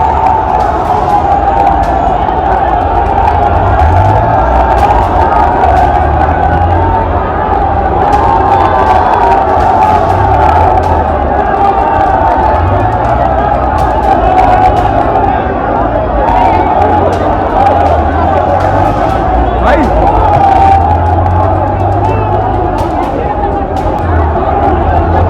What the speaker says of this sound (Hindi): किसानों की भीड़ यहाँ लगातार बढ़ती ही जा रही है और अफरा तफरी का माहौल बन चुका